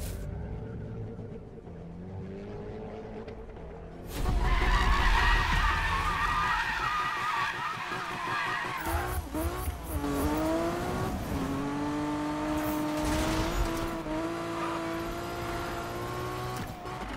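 A game car drifts in Need for Speed, its engine revving and shifting in pitch while tires skid and squeal through long slides; the engine sound is loud, close and continuous throughout.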